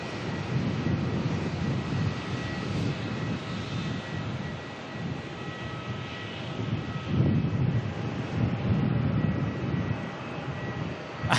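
A Jetstar airliner arriving from Adelaide at Melbourne rumbles with a steady engine roar and wind-buffeted noise, swelling and fading slightly as it passes.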